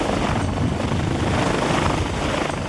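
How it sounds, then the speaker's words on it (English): A rescue helicopter hovers close overhead, its rotor wash giving a loud, continuous, broadband roar and rumble with no pauses, drowning out everything else. "Again, the helicopter is dispatched"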